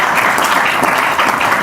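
An audience applauds a Nigerian stand-up comedian at a live show, a dense, steady wash of many hands clapping at close range, filling the whole moment with no voice on top.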